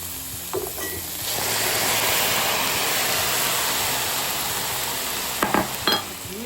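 Cooked pinto beans being drained, a loud rushing pour of water lasting several seconds, bracketed by a few clinks and knocks of pot and utensils at the start and end.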